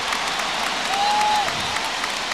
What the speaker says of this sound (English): And for the first time tonight, this crowd is fired up.